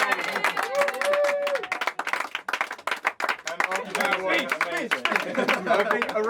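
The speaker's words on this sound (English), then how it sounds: "I think a big round of applause for Nick." Audience applause at a Christmas gathering of friends after a musical performance: dense, scattered clapping runs throughout the clip, mixed with voices talking and calling out over it.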